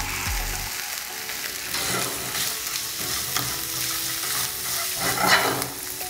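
Garlic and ginger sautéing in a pan while making okra bhaji, a steady close sizzle with a few scraping stir strokes, with no talking.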